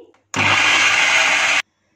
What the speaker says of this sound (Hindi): इसे ब्लेंड कर लेंगे।